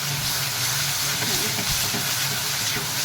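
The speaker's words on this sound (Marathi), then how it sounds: "अद्रक लसणाचं पेस्ट छान शिजलेलं आहे." Ginger garlic paste sizzles in a hot pan while cooking for a Marathi suran (elephant foot yam) vegetable dish, a steady broadband hiss and crackle throughout with no talking.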